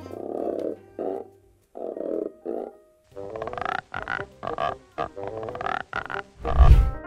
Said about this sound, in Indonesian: Kalian pasti ngira kalau suara kodok begini tinggal direkam kodok aslinya aja kan?